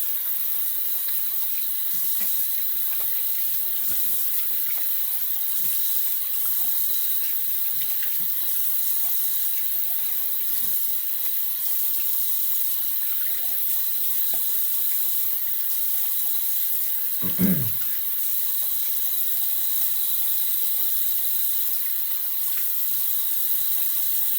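A kitchen or bathroom tap runs steadily while shaving gear, a Japanese kamisori razor and brush, is rinsed under it; close, constant splashing water with a brief clunk near the end and no talking.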